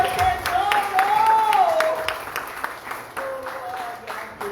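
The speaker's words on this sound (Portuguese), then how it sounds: "Dê o melhor aplauso que você puder ao seu tesouro." Congregation claps during a Portuguese-language church service, a moderate spread of handclaps under a sustained voice or tone that rises and falls, the applause fading slightly toward the end.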